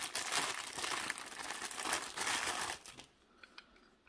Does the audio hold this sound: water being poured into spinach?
no